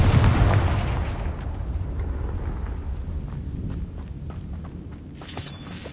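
A Confringo blasting spell from Hogwarts Legacy goes off in a loud burst at the start, its booming rumble slowly fading into a low, steady roar with faint scattered crackles and a brief hiss near the end.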